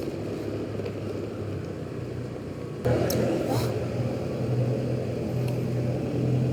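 A car passes close by on a busy Bogor road in stop-and-go traffic, a broad engine and tyre rush that swells suddenly and stays loud over steady road rumble, with a voice talking underneath.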